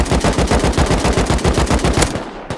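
Rapid automatic gunfire from the online survival game Rust rattles in one loud, close, sustained burst of evenly spaced shots for about two seconds, then cuts off sharply.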